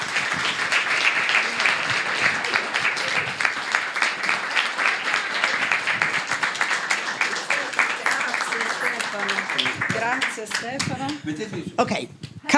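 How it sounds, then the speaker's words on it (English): Sustained audience applause and clapping at a New York University presentation, dense and steady for most of the stretch, then thinning toward the end as voices and a few scattered claps emerge. "A big applause to Yvonne."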